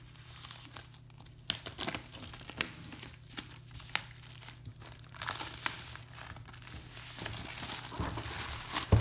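Packaging for a 2020 iPad Pro 12.9-inch being opened, with close crinkling and soft tearing of wrap, scattered sharp crackles and a low steady hum underneath, no talking.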